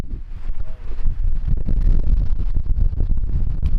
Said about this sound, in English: Being on top of the hill, it's just so windy right now